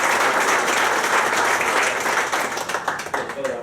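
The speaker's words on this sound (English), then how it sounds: "So we'll give him a round of applause as he comes up." Audience at a city council meeting applauding, dense steady clapping from a roomful of people that thins into scattered claps toward the end.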